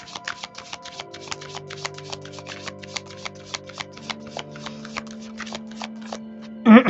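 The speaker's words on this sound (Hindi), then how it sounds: "And let me shuffle more." Tarot cards being shuffled by hand, a steady run of crisp riffling flicks close up, with a brief louder rustle at the very end and no talking.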